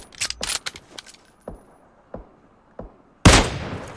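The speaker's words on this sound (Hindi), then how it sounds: "मुझे सामने एक बॉट दिखता है जो उधर की साइड फायर कर रहा होता है।" Gunshots from a bot firing in the mobile battle royale PUBG Mobile: a fast burst of sharp cracks, then several single spaced shots, and a louder, closer blast near the end, with no talking.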